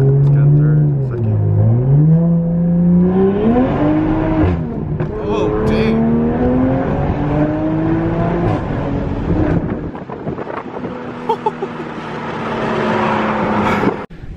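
Tuned Toyota Supra accelerating hard on a new tune, the engine note climbing through the gears with rising revs, a shift dip and a loud close roar before easing off near the end.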